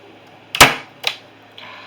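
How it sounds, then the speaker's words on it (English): A handheld staple gun fires staples into a wooden cross in two sharp, close snaps about half a second apart, followed by a faint click. "we are going to use our handy dandy staple gun"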